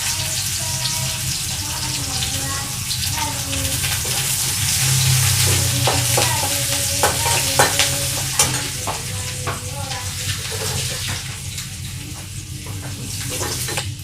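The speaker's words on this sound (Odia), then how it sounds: "ପିଆଜ ଭାଜି ହେଇଗଲାଣି।" Chopped onions fry with panch phutan spices in a pan, giving a steady, close sizzle with occasional stirring scrapes and clinks on top, and no talk.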